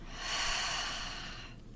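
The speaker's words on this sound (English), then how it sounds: "take a deep breath in, deep breath out" A single deep breath drawn in and let out, a soft airy rush swelling and fading over under two seconds, close and alone without speech.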